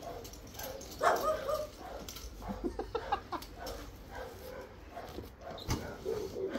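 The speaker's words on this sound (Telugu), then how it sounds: "పక్కింట్లో కుక్కలు అరుస్తుంటే నేను కూడా అరుస్తున్నా" Neighbouring dogs bark and whimper from a distance in a home garden, with a few scattered yips, faint and irregular, and no talking.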